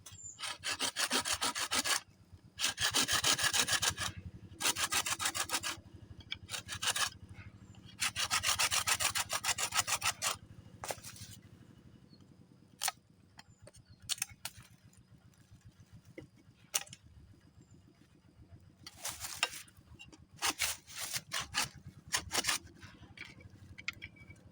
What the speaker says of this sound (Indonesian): kita akan lubangi yang bagian bawahnya lagi teman-teman